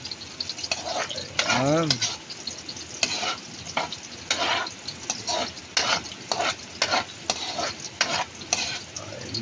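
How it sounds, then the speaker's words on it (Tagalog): Onion and garlic frying for pork adobo, a loud close sizzle broken by repeated rhythmic scrapes of a spatula against the pan, with a single brief spoken word. "Sige lang, halo-haloin para lalong bumango ba."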